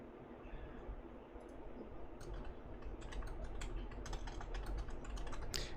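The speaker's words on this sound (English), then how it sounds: "I like typing in YouTube" Steady clicking of keys on a computer keyboard, a continuous rapid patter that grows slightly busier and louder toward the end, heard alone with no talk.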